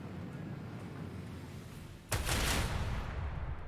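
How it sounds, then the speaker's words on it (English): A macro cannon fires in the Warhammer 40k Rogue Trader video game: a single loud, sudden blast with a rumbling tail cuts through quiet ambient background partway through. "Macro cannon, that could hurt."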